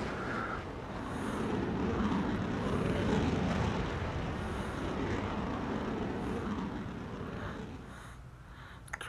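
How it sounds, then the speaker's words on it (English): A propeller airplane drones overhead in Call of Duty Mobile battle royale, a quiet, steady rumble swelling slightly and then fading, with a sharp click at the very end. "Oh, someone's in a plane."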